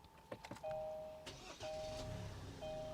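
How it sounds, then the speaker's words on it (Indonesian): A 2021 Kia Seltos diesel engine cranks and catches, settling into a low, smooth idle, with a few clicks and a soft electronic chime beforehand; quiet and close, heard from inside the car. "ini bisa dibilang salah satu mesin diesel paling halus yang pernah saya coba"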